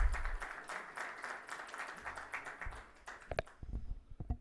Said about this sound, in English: I think it demands another round of applause